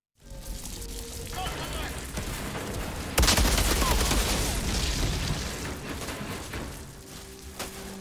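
Outriders video game combat with blind fire: dense rapid gunfire and bursts, a sharp heavy blast partway through, and continuous battle noise under the action.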